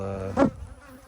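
Honey bees buzz at the hive, one close pass swelling briefly loud before fading back into a steady low hum.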